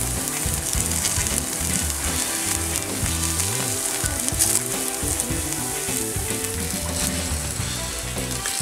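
Takoyaki octopus balls fry in a takoyaki pan, a continuous loud sizzle and crackle with scraping and turning sounds throughout, mixed with background music.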